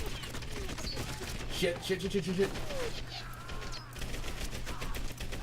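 Gunfire from the World War II shooter Medal of Honor Airborne, a short burst of rapid shots around the middle over a steady game background hum, with someone talking throughout.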